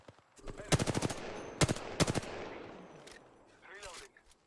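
Rapid automatic gunfire bursts in the battle royale game Apex Legends, loud close volleys of shots in quick rhythmic clusters, followed by a fading echo and quieter scattered shots, with no talk.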